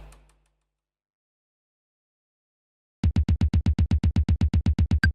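A drum machine plays a rapid, evenly spaced run of sixteenth-note hits that starts abruptly after a silent gap, each short punchy thump close and clear, following a faint brief sound at the very start.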